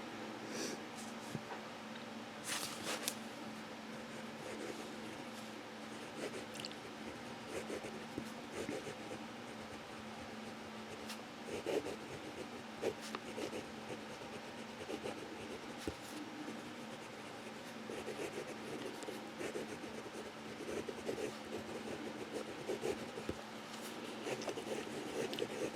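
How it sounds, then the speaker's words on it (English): A fine-nib Asvine V169 skeleton fountain pen scratches softly across paper in repeated short downstrokes and cross strokes, faint and close, with no talking. "Downstroke, cross stroke. We're going to do it again, downstroke."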